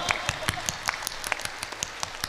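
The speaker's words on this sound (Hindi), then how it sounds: "ये तालियां संतन के लाने" A large crowd claps at a mass religious wedding ceremony of 108 couples at Bageshwar Dham, brisk uneven applause heard at a middle distance with some voices mixed in.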